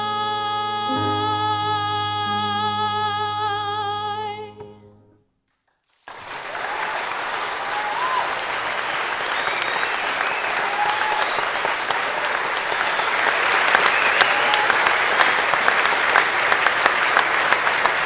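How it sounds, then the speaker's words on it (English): Audience at an annual academic awards evening breaks into sustained applause after a sung performance, a dense steady wash of clapping from a large crowd that grows slightly fuller and continues for many seconds. "we might just give him another round of applause"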